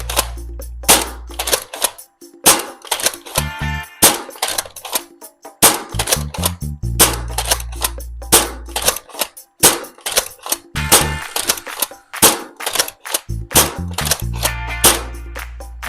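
Dart Zone Max Stryker blaster firing full length foam darts in a rapid series of sharp, loud snapping shots with short pauses between bursts, close up and with no talking.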